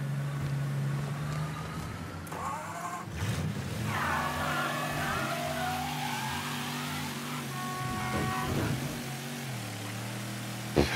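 Car engine in the video game Mafia III, a steady running drone that rises and falls as the car accelerates, with tire and road noise and a brief skid-like squeal in the middle.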